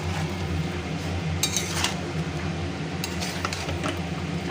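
Spice paste stirred and sautéed in a pan for a hilsa fish head dish, a steady sizzle with spoon-on-metal scrapes and clinks scattered throughout, close and continuous.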